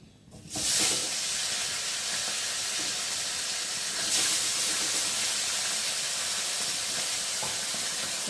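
Fish pieces drop into hot oil in a kadai for a potol fish curry, and a sudden loud, steady hiss of frying starts and holds close and strong throughout.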